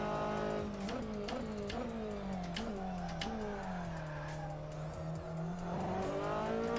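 Formula Ford racing car in Assetto Corsa driven at Mugello on cold tyres, its engine droning continuously with rising and falling revs, gear changes and brief tyre squeals, steady and loud with no talk.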